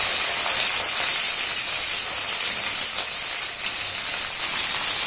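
Chopped onion and curry leaves sizzle in hot oil for poha, a loud, steady, bright hiss with a rain-like crackle that holds at the same level from start to finish, with no voices.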